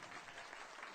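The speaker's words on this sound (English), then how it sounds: "Clap if you're on it right now." Audience at a late-night comedy show breaking into a brief burst of steady applause, close and fairly loud, with no talk over it.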